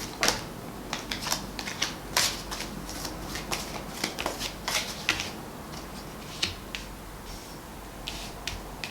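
Tarot cards being shuffled, a run of crisp riffling bursts and soft slaps in an uneven rhythm, close and fairly quiet, with no talking.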